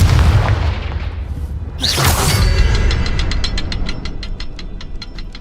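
A Confringo fire spell in Hogwarts Legacy erupts as a loud, close booming blast with a rumbling low end, which then gives way to a steady run of rapid ticking crackles as it fades.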